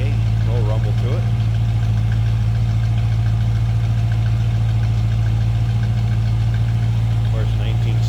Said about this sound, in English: just a nice sounding V8, no rumble to it